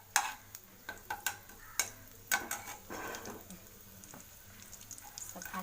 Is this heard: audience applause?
no